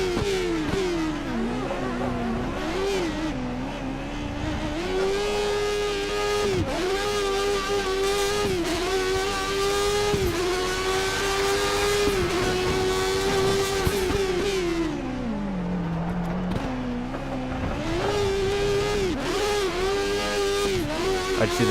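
A 1980s Formula 1 car in the F1 2013 video game races around Spa, its high-revving engine screaming continuously with pitch rising and dropping through gear changes and corners, loud and close throughout.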